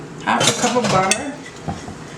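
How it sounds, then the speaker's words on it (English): A spoon stirs melted butter into apple pie filling in a bowl, making a short run of scraping and clinking against the bowl that is close and fairly loud, then fades to a light tap. "So I am just going to mix this up in here, mix everything up well together."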